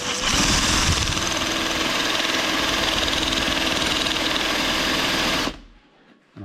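A drill spins 60 grit sandpaper taped onto a drill bit, sanding the legs of a pole roller smooth for repainting: a dense, steady whirring grind that runs loud and close for about five seconds, then cuts off.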